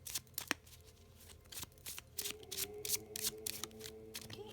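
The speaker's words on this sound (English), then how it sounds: "Let's give them a little shuffle," A deck of Halloween tarot cards is side-shuffled by hand, quick crisp riffles and flicks in irregular bursts, close and fairly quiet with no talk.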